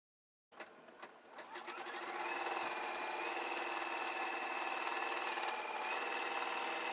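A sewing machine steadily stitches a quilt block, starting after a brief silence and building to a continuous, even mechanical whir with a faint high whine, close and alone with no talking.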